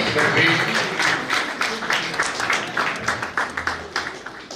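Audience applause at a welcome and memento ceremony for a yoga and naturopathy program, Madhav University, Mount Abu, Rajasthan: dense, sustained crowd clapping throughout, steady and fairly loud, with voices mixed in underneath.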